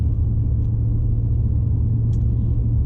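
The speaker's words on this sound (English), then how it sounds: "as I'm test driving it today" A Lexus LS400 rolls along on a test drive, heard from inside as a steady, loud low rumble of engine and road noise with a faint tick or two.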